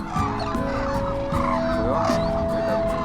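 Hooded cranes calling at their Izumi wintering ground, a dense chorus of loud, overlapping honking calls from a large flock, steady and close throughout.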